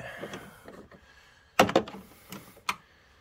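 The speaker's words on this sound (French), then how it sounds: "Donc 3 boulons à desserrer." Bolts on the starter of a VW Polo TDI 130 hp being loosened with a wrench: a few short metallic knocks and clanks in quick bursts, close, with quiet background noise and no clear talk.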